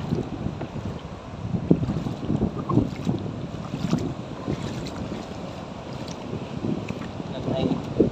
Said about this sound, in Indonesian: Ah, angin ng dagat.